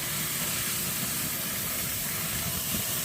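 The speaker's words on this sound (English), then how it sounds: "with it flaming like this, you got to watch it because you will burn it" Tri tip flaming and sizzling on an Old Country vertical smokehouse smoker, a steady loud hiss and crackle of fat on the fire that fills the whole stretch without a break.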